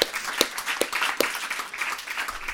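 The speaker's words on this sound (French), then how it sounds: "On peut l'applaudir." Conference audience applauding a speaker: scattered, moderately faint hand claps with a few louder close claps punctuating a soft background of clapping, no talking.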